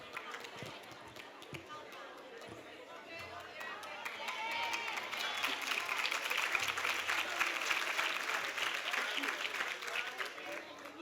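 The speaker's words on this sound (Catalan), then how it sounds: "Un fort aplaudiment per a elles." Audience applause at a sports awards gala in Sant Jaume d'Enveja: a dense, continuous clatter of many clapping hands that swells louder partway through and holds steady to the end, with faint low murmuring underneath.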